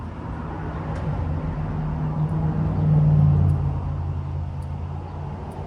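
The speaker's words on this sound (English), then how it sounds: "There's another car." A car passes by outside, a steady low road rumble that swells slightly in the middle and fades again, heard on its own with no talking.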